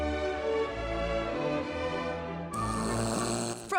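A sleeping adult snores in deep, rattling, buzzy breaths. Two long snores follow one another at close range, the second rougher and harsher, and no one speaks.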